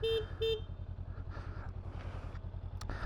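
Horn on a 2024 Honda CMX500 Rebel SE motorcycle giving two short toots over a steady idling engine rumble with wind buffeting, fairly faint.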